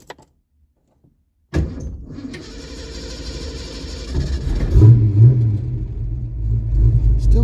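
A Ford 302 V8 in a project car, mid carburetor, fuel, spark and timing tuning, cranks and fires after a short silence, then runs with a loud, close, rough idle whose low rumble swells as it settles.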